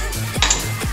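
Cut lime pieces dropping into a glass for a caipirinha, giving two or three short, close clinks and knocks with a brief bright ring in between, no voices.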